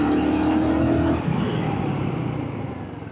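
A 2025 Royal Enfield Guerrilla 450 with a single-cylinder liquid-cooled engine rides at speed, a loud steady engine drone that drops in pitch and eases off as the bike slows.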